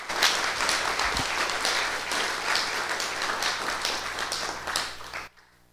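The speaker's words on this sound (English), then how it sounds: "So please give them a warm applause" Audience applause at an international Theosophical conference welcome session, steady dense clapping from a crowd for about five seconds, then cutting off abruptly at the end.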